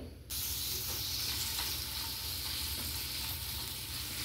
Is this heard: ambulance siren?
no